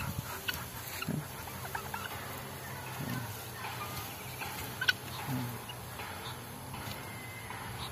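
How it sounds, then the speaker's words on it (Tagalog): Turkeys gobbling among a flock of fowl in a farmyard, with repeated gobbles rising over a steady background of other birds and farm noise, fairly close and continuous. "Ewan ko ano sa Tagalog niyan, turkey sa English."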